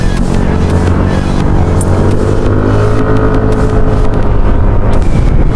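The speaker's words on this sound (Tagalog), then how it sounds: "Itong kasama ko ang ingay-ingay ng muffler." A loud, droning muffler on a Yamaha NMAX155 motor scooter holds a steady, buzzy roar throughout a ride, close and dominant with wind rush mixed in.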